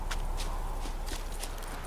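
Horse hooves clop in a steady trotting rhythm in The Witcher 3 video game, a run of soft repeated hoofbeats heard alone over a low background hum.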